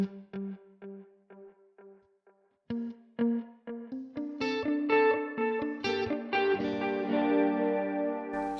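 An electric guitar plays through a delay effect on a Neural DSP Nano Cortex: isolated picked notes trail off into repeats, then rising, denser chords ring out and swell into a sustained, echoing wash, close and alone.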